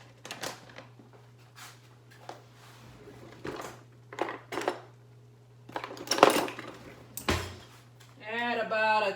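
Metal cutlery clinks and rattles in a kitchen as a spoon is fetched, with a series of scattered clatters and a drawer-like knock over a steady low hum, followed by a person speaking.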